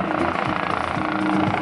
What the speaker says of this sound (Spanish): Ahí tenemos que aproxima el helicóptero